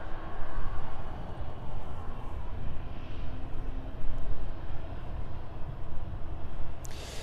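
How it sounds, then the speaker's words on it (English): A Boeing 767 arrives at East Midlands Airport in the evening as a broad, distant jet roar that swells and fades gently over several seconds, with a faint whine drifting in the middle. "catch that 767 arriving into East Midlands this evening"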